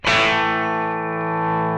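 An electric guitar chord rings out with a rocky overdriven tone through a Mosky Classic AC-30 pedal, struck once loudly and sustained with a slow fade.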